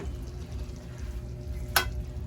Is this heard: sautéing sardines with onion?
yes